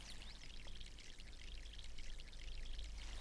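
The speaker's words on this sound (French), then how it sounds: "Arroser un arbre l'aide à pousser plus vite et porter plus de fruits." Water pours in a soft, steady stream onto a tree in the My Sims video game, a faint continuous splashing trickle with no voices.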